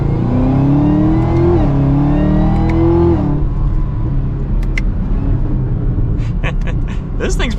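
A Chevrolet Camaro ZL1 muscle car pulls away from a start, its engine note rising steadily through a gear before a shift, then continuing as a loud, close drone with other sounds over it.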